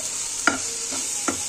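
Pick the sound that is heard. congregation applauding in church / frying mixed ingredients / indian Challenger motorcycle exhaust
frying mixed ingredients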